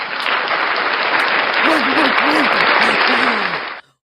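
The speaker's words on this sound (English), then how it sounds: "Clap for me, I clap for you." Dense applause from an audience fills the stretch at steady loudness, with a voice talking partway through, then cuts off abruptly near the end.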